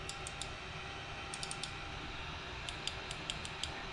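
A Sovol SV01 3D printer's X and Z limit switches click in small, quick clusters of light, sharp ticks, close and faint over a steady background hum.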